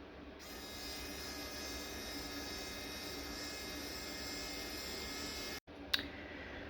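A small RC winch on a TRX-4 Ford Bronco crawler reels its cable back in, giving a steady, even motor whine that runs unbroken for several seconds, cuts out abruptly, then ends with a single click.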